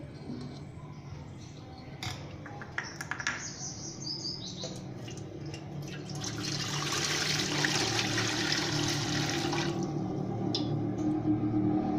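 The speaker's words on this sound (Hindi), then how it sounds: "अब हम इसमें 1 जग पानी ऐड करेंगे।" Water pours steadily into a cooking pot on a stove, starting soft and building to a fuller, louder gush that continues to the end, with faint background chirps.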